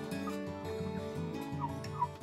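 Several turkeys on a farm in Lampung gobble together in a dense, continuous chorus of warbling calls, fairly close and steady throughout, with no talk.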